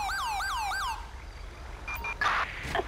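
An ambulance siren in GTA V gives three rapid rising-and-falling wails, loud and close, then cuts off, leaving scattered faint clicks and game sounds.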